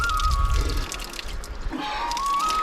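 Cold spring water, flowing from tree roots on a Uttarakhand hillside, trickles and drips steadily nearby, with a thin tonal whistle running through parts of the clip.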